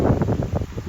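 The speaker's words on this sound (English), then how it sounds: "I want to apologize about the fan noise" Steady, rushing fan noise outdoors on a hot, humid day, a broad unbroken whoosh with faint fluttering, close to the microphone and heard alone.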